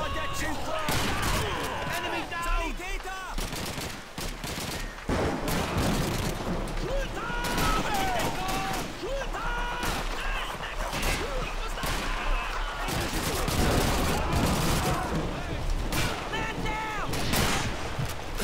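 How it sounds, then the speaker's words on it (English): Sniper rifle and other gunfire in the World War II shooter Call of Duty 2, Battle of Caen level: repeated sharp cracks and booming shots amid continuous battle noise, with talking mixed in throughout. "He just stands in my way when a sniper rifle fires."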